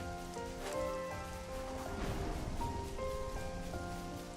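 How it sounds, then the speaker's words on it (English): Steady rain falls in Xenoblade Chronicles 3, a continuous patter over layered game music, with no voice. "Hate the rain"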